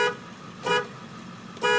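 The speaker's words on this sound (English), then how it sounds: "Honk the horn." A car horn toots in short bursts, three separate honks spaced under a second apart, fairly close and distinct over quiet background hum.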